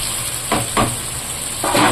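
Steady hiss of fish oil frying in a pan, with a few louder sizzling bursts rising and fading, no voices.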